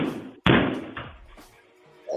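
A single loud door slam bangs sharply, then its rumble decays quickly, with quieter knocks and thuds following.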